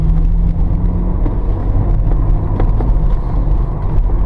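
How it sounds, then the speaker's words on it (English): Peugeot 306 Cabriolet driving along a bumpy road, a steady loud interior rumble and road roar with no distinct thumps. "As you can see, this is quite a bumpy road, and we've not got a lot of bumps and thumps, which is good."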